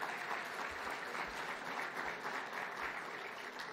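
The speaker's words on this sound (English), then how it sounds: "would you give each other an applause and congratulate each other for that?" Breakfast forum audience clapping for one another, a steady, moderately loud burst of applause from a room full of people, continuous through the short stretch with no talk over it.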